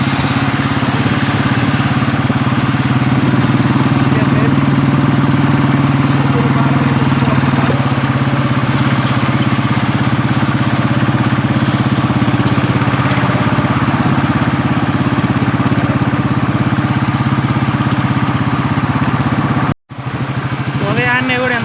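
A motorcycle engine runs steadily and loudly as the bike travels on a morning road toward Chilkur Balaji temple near Hyderabad, with a constant droning hum that cuts out abruptly near the end.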